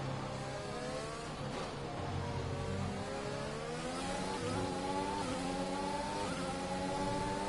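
Formula 1 race car engine in a racing video game, a high-pitched whining engine note that drops as the throttle eases off and then rises again, steady and close, with no talk.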